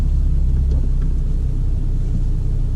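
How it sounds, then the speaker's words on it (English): Interior rumble of a 2020 Ford Fusion Titanium with the 2-liter EcoBoost engine, driven in sport and manual mode. A steady, loud, low engine and road drone plays alone, with no talking. "let's go ahead and take a drive in this 2-liter EcoBoost Fusion here"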